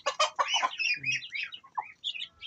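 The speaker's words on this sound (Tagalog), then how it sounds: "Manok ni Kuya Bay." Chickens and ducks at feeding time in a backyard coop cluck in quick, close, uneven bursts, with busy overlapping calls that rise and fall across the moment.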